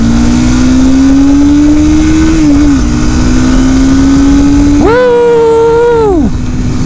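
A small super sport motorcycle accelerates hard, its engine note climbing loudly through the revs, dipping at a gear change, then surging higher again before backing off, close and dominant.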